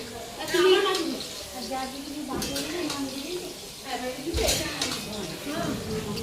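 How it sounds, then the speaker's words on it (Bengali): Pots and metal utensils clinking and scraping as kheer is cooked in a home kitchen, a few light knocks and stirring sounds set against ongoing conversation. "দিদি এখানে ক্ষীর রান্না করছে"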